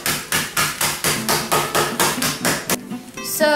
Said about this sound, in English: you're just gonna put it in a bag and then mash.